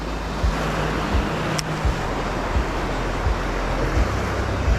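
Wind buffets a microphone on a rocky sea cliff while waves wash below, a loud steady roar with rhythmic low gusts throughout and no speech.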